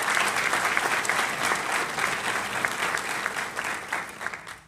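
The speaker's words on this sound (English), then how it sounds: "Let's give Dr. Ellison a round of applause," An audience applauds Dr. Ellison with steady, dense clapping close by, holding for several seconds before tapering off at the end.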